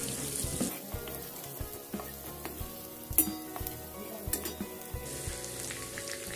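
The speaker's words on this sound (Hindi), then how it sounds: "अब हम इसे अच्छे से भून लेते हैं।" Garlic and ginger paste frying in a pan for soya chilli, a steady sizzle with occasional stirring scrapes and clinks throughout, close and moderately loud.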